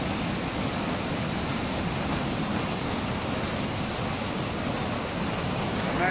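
Rain-swollen river in St-Lin, Laurentides, Quebec, rushing as a constant, dense roar of water that holds steady throughout, with no voices over it.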